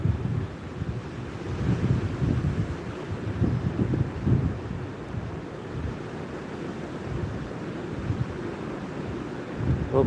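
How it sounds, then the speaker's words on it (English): Ocean waves break along a shoreline at sunrise, a steady rumbling surf with soft swells rising and falling, mixed with gusty wind buffeting the microphone throughout. "the waves look a little different than normal this morning"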